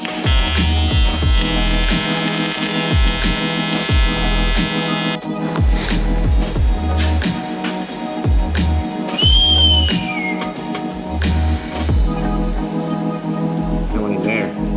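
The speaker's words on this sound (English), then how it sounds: "I'm just real staggering my welds" Welding on an aluminium dog-box canopy with short staggered welds, a steady buzzing, crackling arc in repeated bursts with brief breaks, close and loud, with a few faint voices mixed in.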